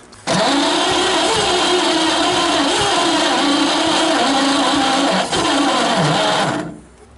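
A 1928 Franklin car engine, off the road for 71 years and suspected of poorly seating valves, cranks and catches, running loud and close with an uneven mechanical chatter for several seconds before cutting off.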